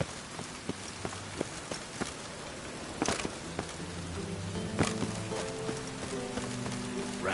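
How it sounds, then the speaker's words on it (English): Steady rain falls in The Witcher 3: Wild Hunt, a soft continuous patter with scattered louder drops and clicks, and a faint low hum of game sound underneath. "Rain again."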